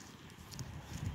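Horse hooves clip-clopping on a hard surface, a quick uneven series of hoof strikes fairly close by.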